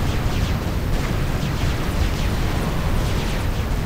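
Dense, continuous barrage of booming cannon fire and explosions from tech 2 tanks battling in a strategy video game, loud and sustained with overlapping blasts and no pauses.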